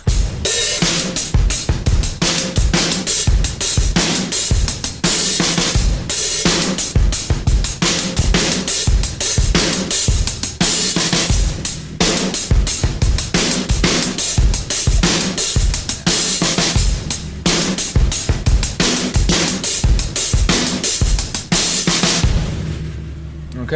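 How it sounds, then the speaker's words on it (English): Drum kit playing a two-bar Latin-style pattern slowly, with the hi-hat opened and closed at set spots, a dense continuous run of close, loud strokes and cymbal wash for over twenty seconds before ringing out. "I'll play the pattern once again for you, both bars, very slowly, and demonstrate where we can open and close the hi-hat"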